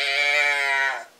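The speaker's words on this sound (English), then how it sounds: "When the does bleed, they have a box they can do it with." A doe bleat box call sounds a single sustained nasal bleat, loud and close, lasting about a second before cutting off.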